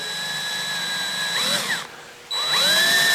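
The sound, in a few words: power drill drilling a small hole in a broken sculpture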